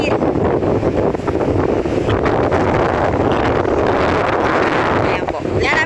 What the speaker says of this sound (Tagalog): Tunog nung alon at hangin nagsama.